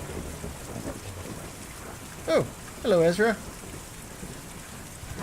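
Steady heavy rain hisses throughout in a video game, with a person briefly speaking over it in the middle.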